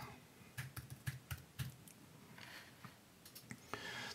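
Computer mouse clicks and keyboard taps while editing in Premiere Pro, quiet and close, in irregular clusters of sharp short clicks spread over a few seconds against a faint room hiss.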